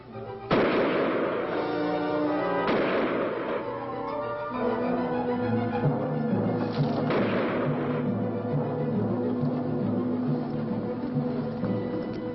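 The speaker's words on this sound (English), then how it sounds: "Fire over its head!" Gunfire from the 1958 science-fiction film Night of the Blood Beast: a few loud, booming shots spaced several seconds apart, ringing out over a dramatic orchestral score.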